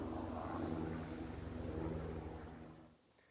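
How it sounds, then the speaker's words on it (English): A low rumbling engine drone with a steady thumping throb, fairly faint and distant, fading out toward the end; no voices. "I'll just pause now, there's a helicopter"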